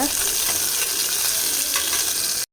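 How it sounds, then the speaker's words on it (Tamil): Onions sautéing in a pan for biryani, a loud, steady close-up sizzle and crackle of frying with faint stirring, continuous and alone until it cuts off abruptly. "ஆனியன் போட்டாச்சு அதையும் நல்லா சாட்டே பண்ணிக்கோங்க"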